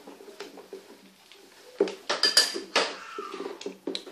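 A utensil clinks and scrapes against a cooking pot while blended onion is stirred for a rice, beans and yam dish, with irregular sharp metallic knocks that build into a busier cluster midway, close and clear without talking.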